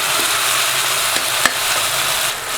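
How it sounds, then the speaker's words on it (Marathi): Chopped tomato fries and gets stirred in hot oil, a loud, close, continuous sizzle with a faint scrape of stirring and no voices. "टोमॅटो चांगला तेलामध्ये परतून घ्यायचा"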